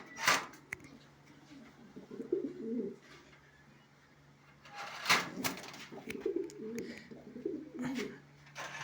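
A pair of Silver Shirazi Lahori pigeons coo softly nearby in two bursts of low, rolling calls, with a few sharper clicks and rustles in between and a faint steady hum underneath.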